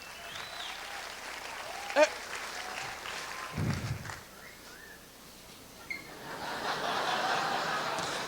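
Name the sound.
audience applause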